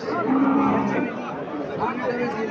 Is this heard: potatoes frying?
no